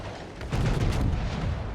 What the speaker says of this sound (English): more shots into the Bismarck broadside